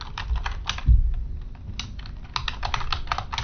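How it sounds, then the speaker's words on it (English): Code is typed on a computer keyboard in quick, close, steady keystrokes with one brief pause and a soft thump, and no talking over it. "so let me type import"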